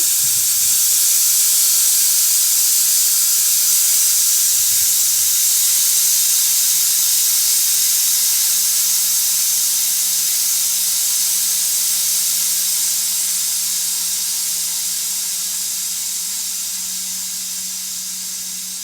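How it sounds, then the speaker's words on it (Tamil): A pressure cooker releasing steam after cooking mutton curry gives a loud, continuous hiss that holds steady and then slowly fades, with a faint low hum underneath. "மொத்த கேஸ் இந்த மாதிரி வெளியானோடனே அதுக்கப்புறம் நீங்கள் குக்கரை துறங்க"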